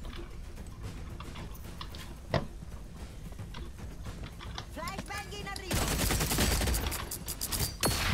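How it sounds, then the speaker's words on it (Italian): Gunfire in the video game Redfall crackles as rapid bursts of shots over a steady background din, with one sharp crack early on and a denser, louder barrage toward the end. "Più che altro sento spari."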